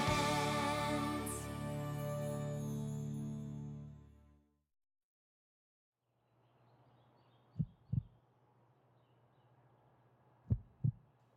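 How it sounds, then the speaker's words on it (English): A slow cartoon heartbeat sounds in two widely spaced double thumps, soft and low against a faint hum, after a louder stretch of music and a brief silence. "I suppose his heartbeat could be a teensy, weensy, eensy bit slower than usual."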